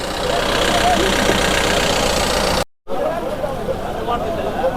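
A vehicle engine idles steadily at the Kuntharapalli country cattle market in Krishnagiri, loud and close, with people talking over it and crowd babble behind. The sound cuts out for a moment midway.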